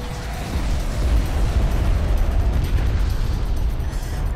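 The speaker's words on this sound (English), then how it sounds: "Looks like we're taking them down with the missile batteries." Missile batteries launching at airborne interceptors during a Homeworld: Deserts of Kharak desert battle, a continuous loud roaring rumble of launches and blasts filling the whole stretch with no clear gaps.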